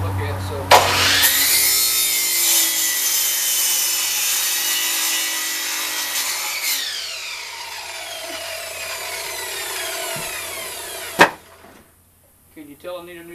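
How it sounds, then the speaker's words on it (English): A miter saw with a dull blade cuts through wood, making a loud, harsh, rough buzz that lasts about ten seconds before it spins down, followed by a sharp clack. "Can you tell I need a new saw blade on the miter saw?"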